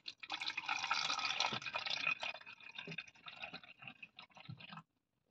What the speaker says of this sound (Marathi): सगळ्यात पहिले कंटेनरमध्ये पाणी भरून घेऊया.